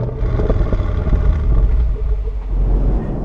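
Holden SS-V Redline manual (2016) cruising on a motorway at about 100 km/h and 1500 RPM, a steady low engine and road rumble droning continuously inside the cabin at moderate loudness.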